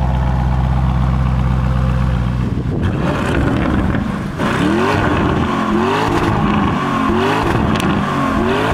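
A Lamborghini Urus engine rumbles and then revs in rising and falling surges, with loud wind buffeting and music playing over it.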